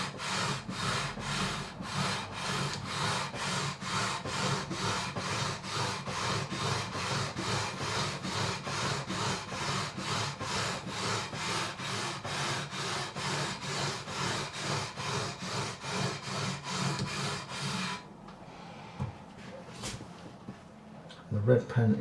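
Guitar frets on a Squier Affinity Telecaster are sanded with 400 grit sandpaper in quick, even back-and-forth strokes, a close rasping scrub that continues steadily for about eighteen seconds before stopping, leaving only a few faint handling knocks.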